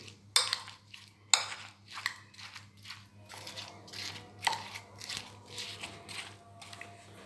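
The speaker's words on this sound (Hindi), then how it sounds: "इसको अच्छी तरह मिक्स कर लें।" A spoon stirs and mixes cream chaat in a bowl, producing irregular clinks against the dish and soft, wet squelching scrapes, close and quiet, with a few sharper taps early on.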